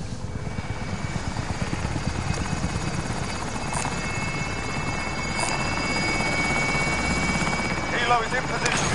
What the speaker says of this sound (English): Helo is in position for your deposit.